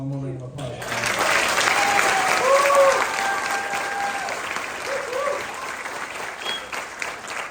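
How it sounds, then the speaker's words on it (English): Sustained applause from a concert band audience, dense clapping holding steady throughout with a few faint whistles or voices mixed in. "So give them one more round of applause."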